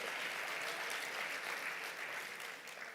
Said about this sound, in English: Another round of applause because he did it within 10 minutes.